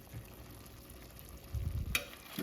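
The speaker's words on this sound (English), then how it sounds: "And give it a good stir." Pork fat rendering into lard in a pot gives off a soft, steady sizzle, and a louder burst of frying crackle and stirring comes near the end, with no voices.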